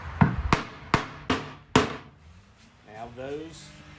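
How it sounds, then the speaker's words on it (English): Five sharp hammer taps driving brad nails into wood at an uneven pace, close and fairly loud, followed by a short stretch of talking. "So I'm gonna just tap these down with a hammer."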